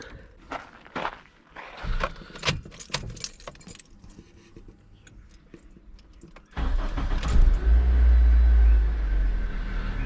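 Keys jangle and footsteps shuffle before a car engine cranks and catches, then settles into a loud, steady, low idle rumble that runs to the end.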